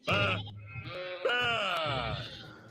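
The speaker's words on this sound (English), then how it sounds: "These sheep have been knocked around by the citizens of Skylands." Sheep in the Skylanders video game bleat twice, clear wavering cries in close succession set against a low game background.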